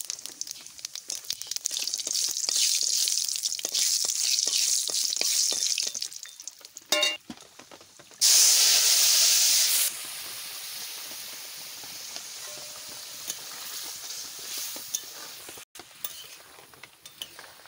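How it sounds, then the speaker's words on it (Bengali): Cumin and whole garam masala sizzling in hot oil for mutton curry, with a continuous dense hiss and crackle, a sudden louder burst of sizzling partway through, then a settled, steady frying hiss. "আর জিরা দিয়ে দিচ্ছি।"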